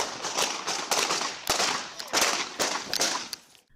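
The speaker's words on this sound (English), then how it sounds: "Gunfire broke out." Rapid bursts of gunfire during a police shooting at a home, several sharp loud cracks in quick irregular succession with echoing tails, close and harsh, then cutting off abruptly.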